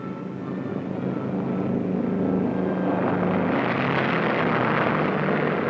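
A four-engine B-29 bomber carrying the X-1 research plane in flight, its steady propeller engine roar broad and continuous, swelling slightly louder over several seconds with no voices.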